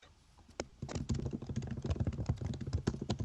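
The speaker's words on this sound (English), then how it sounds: "I can hear you typing." Typing on a computer keyboard, a fast irregular run of close clicking keystrokes that begins softly and becomes steady and louder, with no talking over it.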